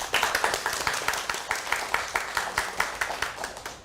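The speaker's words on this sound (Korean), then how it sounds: "박수." A small audience claps in a quick, regular rhythm, each sharp clap distinct and close, continuing steadily for several seconds without talk.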